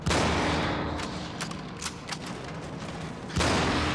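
Gunfire in the first-person shooter Cryostasis: a loud burst of shots at the start, several sharp cracks in the middle, then another heavy blast near the end, with no talking.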